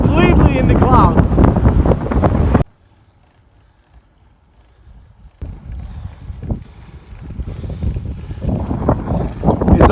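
Strong cold wind on a bridge in San Francisco buffets the microphone in loud, rumbling gusts, dropping away almost completely for a few seconds before roaring back and building again.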